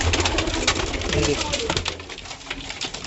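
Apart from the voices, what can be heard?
pigeon cooing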